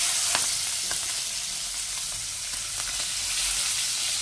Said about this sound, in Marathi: आता तेल चांगलं तापलेलं आहे, त्यात हे पापलेट आपण फ्राय करण्यासाठी टाकून घेऊया